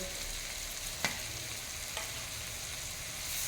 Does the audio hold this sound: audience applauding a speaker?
no